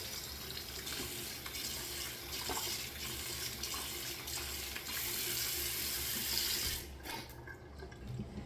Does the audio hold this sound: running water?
yes